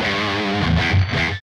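Electric guitar played through a Kemper profiling amp with the distortion turned up, a dense, harmonically rich distorted tone sustaining for over a second, then cutting off abruptly.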